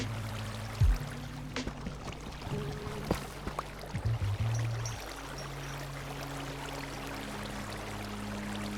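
Water from placed sources pours and flows in a video game, a steady gushing stream with a few splashy bumps early on, continuous and fairly close without any talking.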